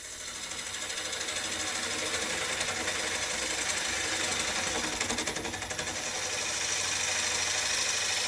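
A wood lathe spins while a HollowPro tool hollows out the workpiece, producing a continuous dense rasping, buzzing cut that stays steady and fairly loud throughout, with no talking.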